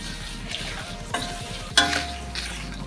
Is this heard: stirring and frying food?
yes